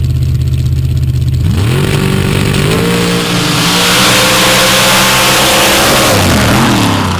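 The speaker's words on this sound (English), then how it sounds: "Giving that engine all it wanted, a lot of smoke rolling out of that machine." A loud dirt track racing engine roars and revs hard at Steelville, pitch climbing and holding high for several seconds before dropping off, with no voices.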